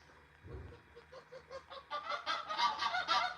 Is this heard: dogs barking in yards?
no